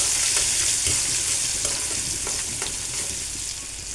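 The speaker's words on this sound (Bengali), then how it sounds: "এখানে আমি পেঁয়াজ কুচি দিয়ে দিলাম। ডিম ভাজা হয়ে গেছে আমার।" Egg fries with chopped onion in a pan, giving a loud, even sizzle with a few soft stirring taps, close and steady throughout, without any voices.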